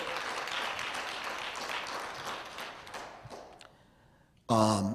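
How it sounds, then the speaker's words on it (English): A crowd at a Professor Griff hip hop talk gives Khalid El Hakim a round of applause. The thick clapping holds steady, thins and fades away, and then a voice starts speaking close by. "Let's give him another well-deserved round of applause."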